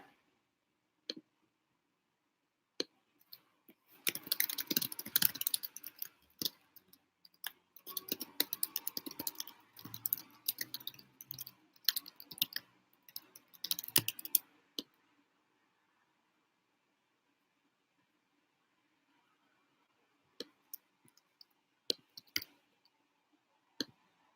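Rapid keyboard typing clatters in a dense burst of clicks for about ten seconds, then goes quiet before a few scattered keystrokes return near the end.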